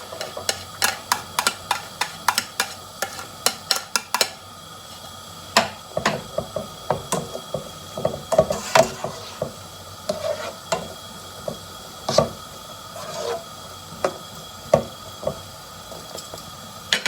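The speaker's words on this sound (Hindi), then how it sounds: "और इसमें मैं डाल रहा हूँ प्याज।" Onions fry in a pan for a sour aubergine and potato curry, a soft sizzle running beneath repeated close, sharp ticks and scrapes of a spoon stirring in an uneven rhythm.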